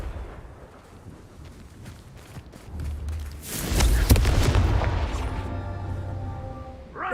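Spell-cast explosion in a Harry Potter video game, a deep rumbling blast that swells midway and lingers as a sustained roar with a low hum, fairly loud, no voices.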